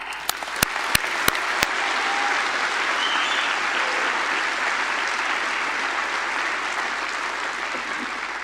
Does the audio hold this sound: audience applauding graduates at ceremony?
yes